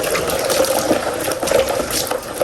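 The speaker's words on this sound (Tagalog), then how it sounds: "Yung pong inihuhugas ni Bossing ay tubig alat" Crabs being washed in salt water in a basin, giving a close, continuous sloshing and splashing of water with no talking.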